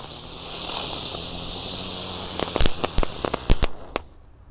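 Two spinning teratai (lotus) firecrackers lit together hiss steadily as they whirl, then burst into a quick run of sharp, loud pops and cracks near the end before fading out.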